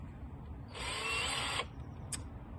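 A power drill running in reverse while trying to drive screws into a flower pot display, one steady whirring burst of about a second, fairly close, followed by a brief faint squeak.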